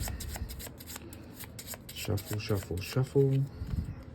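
Rapid riffling of playing cards being shuffled nearby, crisp repeated bursts, with a person talking softly over the shuffling.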